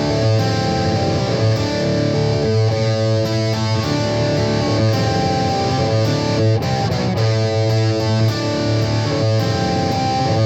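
A loud, distorted electric guitar riff plays continuously through the stock speaker of a Peavey Vypyr X2 amplifier with light reverb, chugging low notes with a thick, crunchy tone and steady rhythm.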